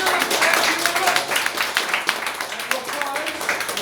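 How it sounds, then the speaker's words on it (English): A crowd applauds steadily, a dense wash of many hands clapping at once, fairly loud and sustained throughout. "Round of applause for our contestants, please."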